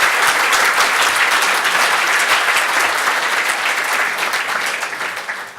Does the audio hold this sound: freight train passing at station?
no